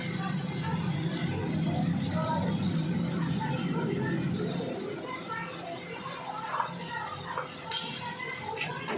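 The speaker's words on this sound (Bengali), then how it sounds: "এইটা সুন্দর করে মিশিয়ে দেব।" A spoon mixes mustard and poppy seed paste with raw mustard oil in a bowl, giving soft scraping and light clinks under nearby voices and background chatter.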